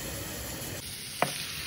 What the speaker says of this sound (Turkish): Yağda soğanı güzelce kavurdum.